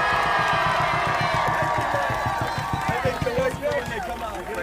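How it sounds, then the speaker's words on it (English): A crowd cheers and shouts throughout for a returning national champion Baylor Bears team, loud and continuous, with steady rhythmic beats running underneath and voices mixed in. "let's cheer for them louder than you ever have before"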